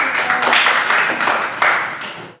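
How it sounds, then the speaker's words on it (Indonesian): Classroom applause for a student group during a lesson, a short burst of loud, close hand clapping from a small number of people, with a few distinct claps standing out before it tapers off. "tepuk tangan buat kelompok 1 ya."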